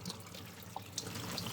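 Cut Malabar spinach is washed under a running kitchen tap, a soft, steady stream of water with faint splashes and drips, fairly quiet.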